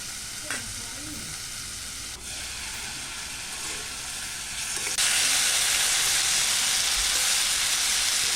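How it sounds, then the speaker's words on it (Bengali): Cauliflower fries in hot oil with turmeric powder, a steady close sizzle with a few stirring knocks that swells into a louder, fuller hiss partway through. "তারপর ফুলকপিটা ভেজে নেব।"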